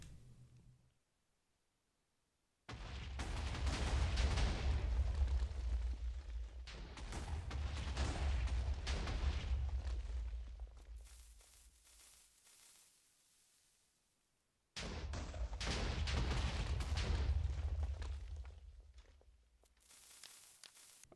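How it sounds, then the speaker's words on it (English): Minecraft TNT blocks detonating across a pirate ship set off long rumbling blasts, two loud bursts of chained explosions with a quiet gap between them. "I've finished placing TNT all over this ship, so this is going to look pretty cool when it explodes."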